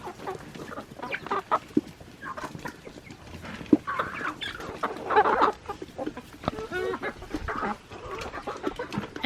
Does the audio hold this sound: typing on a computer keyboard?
no